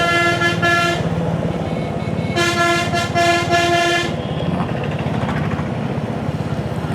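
A loud bus horn blasts twice on the road near a Royal Enfield Hunter 350 ride toward Araku Valley, the first blast brief and the second longer, over constant engine and wind rumble.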